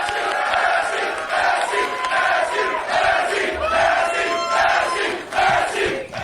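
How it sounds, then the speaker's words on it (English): A packed room at a political rally roars with sustained loud cheering and shouting from a large crowd, steady throughout with swelling bursts of yelling. "you hear that crowd there"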